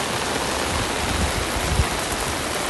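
Steady rain falls during an outdoor walk at Royal Phuket Marina in Thailand, a dense continuous hiss with a few low thumps underneath and no talking.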